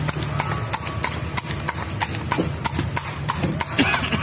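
Hooves of a horse pulling a bendi carriage in Bukittinggi clip-clop steadily in a quick, even rhythm, close and clear over road noise and faint background sounds.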